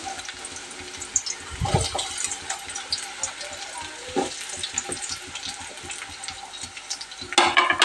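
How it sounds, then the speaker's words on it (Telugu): Two chopped onions tipped into hot oil for chicken kheema sizzle and crackle up close, with a louder burst as they hit the pan, scraping stirs, utensil clinks and a sharp hiss near the end. "ఆయిల్ అయితే కాగిందండి. ఇప్పుడు వచ్చేసి ఉల్లిపాయలు అయితే వేసేసుకుందాం."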